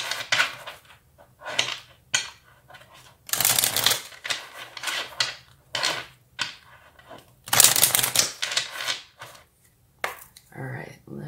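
Tarot and Lenormand cards being shuffled make rapid riffling bursts and soft slaps, close and crisp in repeated clusters, with some soft talk in between.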